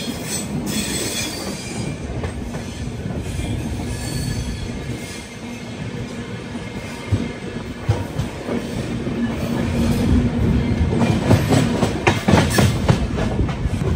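Humsafar Express passenger train running on rails, with a loud continuous rumble, rhythmic wheel clatter and high squealing wheels that swell toward the end, heard close.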